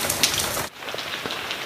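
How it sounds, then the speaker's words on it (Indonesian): Steady rain patters densely on a surface nearby, loud and continuous, with individual drops ticking through the wash and a brief dip in intensity partway through. "mudah-mudahan hujannya tambah deras"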